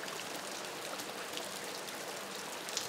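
Steady rain falls in Normandy, a dense, even hiss of drops on surfaces with a few sharper patters, close and continuous, with no voices.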